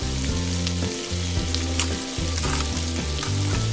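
Food on a toy kitchen playset gives off a continuous sizzling hiss for several seconds, sitting under loud melodic background music with no voices.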